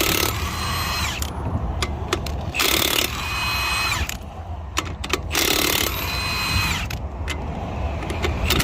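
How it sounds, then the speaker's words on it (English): An 18-volt Milwaukee impact wrench with a 21 mm socket, working on a Ford Transit spare tire mount, fires in three loud hammering bursts separated by short pauses and a few metallic clicks, close up. "I get to cheat and use a impact. This is a 18 volt Milwaukee from Home Depot."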